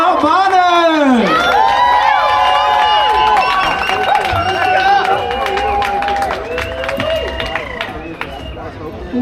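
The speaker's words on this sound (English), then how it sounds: "So everybody clap and cheer for the love of my life," A live audience at JonnyFest claps and cheers for a comedy show, with loud, steady applause and whoops filling the space while an excited voice rises over the noise, then the crowd tapers slightly toward the end.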